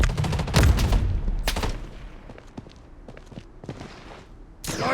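Minigun fire in a battle royale video game rattles in dense rapid bursts with sharp impacts, loud at first and then thinning into scattered shots and footsteps before another heavy burst at the end.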